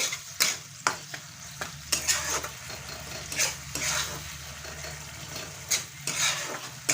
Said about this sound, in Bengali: আচারি মশলাটাও দিয়ে দেবো একই সঙ্গে দিয়ে আমি ভালো করে নেড়ে চেড়ে নিচ্ছি